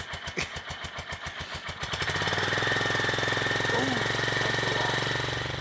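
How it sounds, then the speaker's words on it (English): A Royal Enfield motorcycle engine, struggling to start, cranks with rapid chugging pulses, then catches and settles into a loud, steady rumbling idle. "So Nugget, the bloody Enfield didn't want to start"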